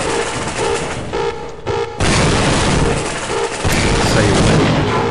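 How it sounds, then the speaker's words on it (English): A room blows apart in Half-Life: Opposing Force, a loud sustained roar of booming blasts with a brief dip and stuttering bursts like gunfire, close and dense throughout. "The exploding room."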